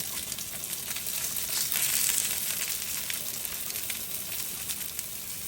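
Dumplings, or potstickers, fry in a small amount of oil in a pan, giving a steady, close hiss and sizzle with faint crackles, continuing evenly without speech.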